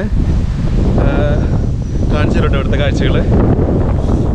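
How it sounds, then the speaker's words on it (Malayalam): Strong wind buffets the microphone at Otway park on Australia's Great Ocean Road, a loud constant roar and rumble that runs the whole time beneath someone talking. "അതേപോലെ തന്നെ കാറ്റും ഉണ്ട്."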